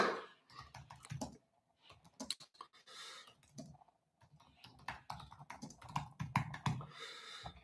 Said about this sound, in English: Because I cannot type and talk.